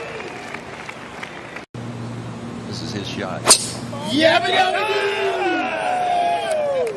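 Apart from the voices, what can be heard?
golf crowd cheering at the U.S. Open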